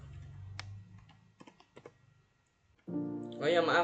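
Typing on a computer keyboard while entering network switch commands, bursts of quick key clicks and a few isolated taps before a voice starts talking over the end.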